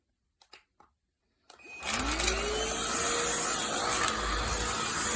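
A FixtFixer 350W cordless stick vacuum cleaner switches on at its first power setting on carpet, a few clicks then a rising whine settling into a steady, close, loud motor drone that holds alone to the end.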